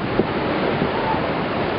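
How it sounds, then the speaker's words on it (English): Ocean waves breaking on a beach during a November nor'easter, a steady broadband rush of surf and wind roar with no distinct individual crashes, loud and continuous throughout. "You can tell by how the waves break."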